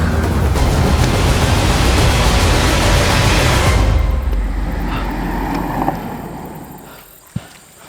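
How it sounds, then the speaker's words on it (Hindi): A car driving fast on a road in a crime drama scene, a loud steady roaring rush that fades out after about four seconds, followed by a faint quieter tail with a brief knock. "गाड़ी तेज चलाओ, रोको मत।"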